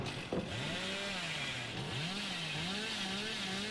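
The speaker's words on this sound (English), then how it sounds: "that chainsaw's loud." A loud chainsaw wielded by the Hillbilly killer in a video game revs and wavers continuously, its buzzing engine pitch sliding up and down close by, with no talk over it.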